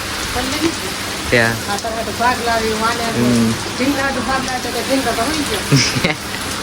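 Steady heavy rain hissing throughout, with people talking and a voice over the downpour.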